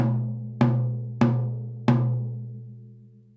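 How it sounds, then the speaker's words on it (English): An unmuffled tom drum struck four times at an even, unhurried pace, each hit ringing out with a long resonant decay that overlaps the next, close and moderately loud with no voices. "So without that, this tom sounds like this."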